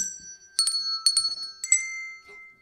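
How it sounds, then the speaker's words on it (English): Handbells at a church service ringing the hymn Jesus Loves Me, a few clear struck tones with long sustained ringing, near and moderately loud, with no voices. "we're going to play it on the bells once"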